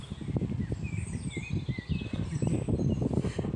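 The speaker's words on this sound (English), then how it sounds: "You hear the birds and the train." Birds chirp and twitter in Miller Park, Preston, their faint, scattered calls drifting over a steady rumble of outdoor background noise, with no voices heard.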